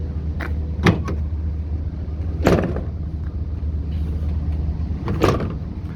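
Doors on a 2011 Ford F350 with the 6.7L engine are shut by hand, not soft-close, giving three or four solid thumps spaced a couple of seconds apart over a low idling rumble.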